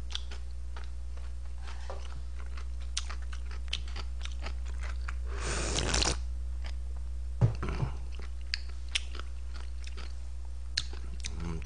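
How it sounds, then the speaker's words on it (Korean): Close, quiet chewing and crunching during a Korean mukbang of Chinese dishes such as tangsuyuk, jjajangmyeon, jjamppong, fried rice and fried dumplings, with soft clicks and one brief louder burst of rustling partway through. "천천히 먹겠습니다"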